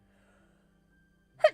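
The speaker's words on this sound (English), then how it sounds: "I'll go to sneeze." A single sudden sneeze bursts out at the end after near silence, loud and close, with a brief low hum before it.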